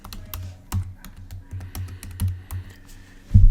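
Quick, uneven keystrokes on a computer keyboard as a file name is typed in an audio editing program, close and clear with small pauses, ending in a slightly heavier key press.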